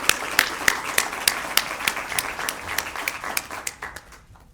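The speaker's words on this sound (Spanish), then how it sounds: "lo recibimos con un fuerte aplauso" An audience at a formal event applauds as a speaker is welcomed to the podium, with strong accented claps over a dense wash of clapping that fades gradually toward the end.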